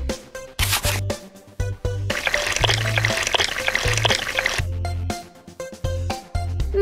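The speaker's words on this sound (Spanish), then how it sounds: "Vierte la leche, por favor." Cartoon milk pours in a children's wedding party cooking game, several short bright liquid glugs and squishes alternating with a longer steady pour, over a bouncy game music bed.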